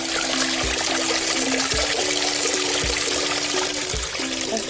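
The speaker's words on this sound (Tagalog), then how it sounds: "Ito yung tubig na sinasala." Water from a deep well being poured and filtered, a steady trickling flow with a faint recurring click or tap roughly every second underneath.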